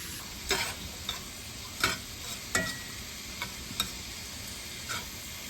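Ground beef frying in a pan as onion is added, with a steady sizzle under a series of sharp scraping stirs and clacks of the utensil against the pan, close up and without talk.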